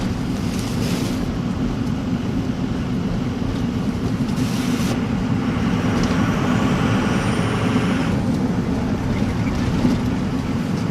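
A Ford Excursion's engine rumbles with its PulsarTurbo 10-blade turbo spooled, a loud steady drone with a faint whine riding over it throughout.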